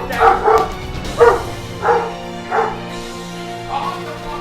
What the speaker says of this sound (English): You don't need to be barking.